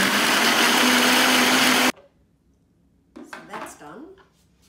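A blender whirs loudly, making a smoothie for about two seconds, then stops abruptly. Brief clinks and a faint voice follow in the quiet afterward.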